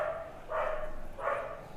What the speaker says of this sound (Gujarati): કૂતરા બાજે છે જોરદાર.